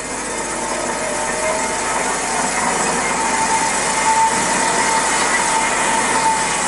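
A Cosen R-250NC automatic bandsaw runs with its blade at variable speed, giving a steady, dense mechanical whir and hiss that stays loud and even throughout, with no talk.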